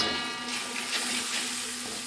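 Dry spices such as turmeric and Kashmiri chili powder cook in a pan with a splash of water, giving a steady, soft, close sizzle and hiss with no talking.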